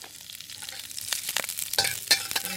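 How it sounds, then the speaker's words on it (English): Green onion stir-fried in added oil in a wok, a steady close sizzle with scraping stirs and a few sharp clinks of the utensil against the pan, the frying growing louder toward the end. "I'm going to add a little bit more oil in it. And I'm going to stir fry the green onion."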